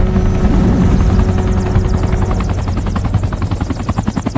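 A helicopter flies off in a film scene, its loud rotor thudding steadily at first and then breaking into a distinct pulsing chop as it lifts away, with no talk over it.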